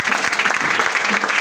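A worship audience at a deliverance service applauds, dense continuous clapping heard up close and loud for a brief moment.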